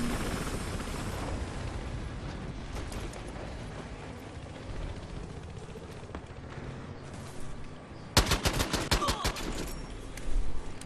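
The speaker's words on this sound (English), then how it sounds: "Trying to shoot that guy behind us." Gunfire in a video game, heard as a rapid burst of roughly ten sharp, loud shots near the end over a busy backdrop of engine and action noise.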